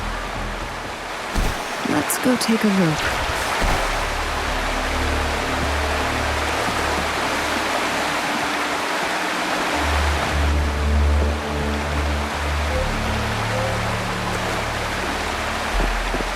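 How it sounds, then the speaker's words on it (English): Steady roaring rush of a waterfall in the Wuthering Waves game, a dense continuous wash of falling water heard up close, with a person speaking briefly over it early on and low rumbling tones later. "There's something behind the waterfall."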